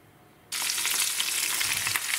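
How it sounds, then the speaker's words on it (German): Potatoes dropped into a pan where bacon has already been browning, setting off a loud, steady frying sizzle that starts abruptly after a brief quiet moment and continues unbroken at close range. "So, die ganze Kartoffel in die Pfanne und jetzt wie ganz normale Kartoffel einfach braten."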